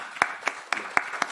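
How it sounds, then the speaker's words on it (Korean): Sparse, quiet hand claps from a church congregation welcoming a returning member during a Sunday service, about five distinct sharp claps spaced evenly apart. "우리 환영의 박수 한번 하도록 하겠습니다"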